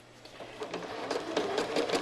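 A sewing machine runs in short bursts while quilting, its needle chattering rapidly and evenly, close and fairly quiet, speeding up slightly toward the end.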